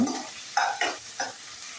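Fried vegetables go into a pan with noodles being cooked and are stirred, three distinct scraping strokes of a spatula over a faint sizzle and a steady high hiss.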